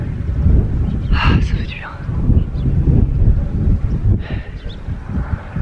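Wind gusting across the Savitri Temple hilltop in India, a loud, buffeting rumble on the microphone that swells and eases, with a person speaking briefly over it.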